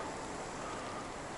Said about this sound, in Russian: Дождик начинается.